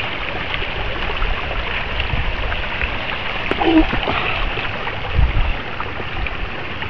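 Stream water rushing at the confluence of two mountain streams, a steady broadband roar filling the scene throughout with small splashes, loud and near, with faint voices now and then beneath it.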